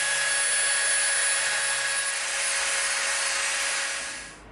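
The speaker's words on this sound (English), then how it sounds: "we're gonna come in with our Dremel and we're gonna just lightly round off the edges" A Dremel rotary tool lightly rounds the edges of EVA foam, producing a close, steady high-pitched whine with a soft grinding hiss that runs continuously for several seconds before spinning down.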